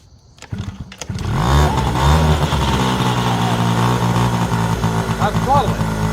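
A Yamaha Razz scooter engine, left sitting for 11 years, sputters to life and is revved with the throttle, its uneven, rising and falling drone continuing loudly throughout after a brief quiet start.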